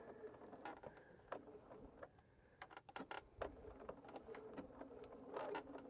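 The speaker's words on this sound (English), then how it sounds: "I'm just stitching over the previous stitching" A sewing machine stitches through many thick layers of a tote bag with a faint, distant mechanical pattering and uneven clicks that run throughout.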